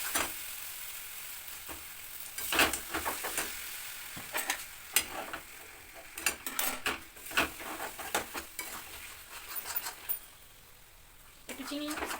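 Masala frying and being stirred in a pan for mutton, a soft background sizzle with irregular scraping and clinks of the spatula against the metal, as someone talks throughout.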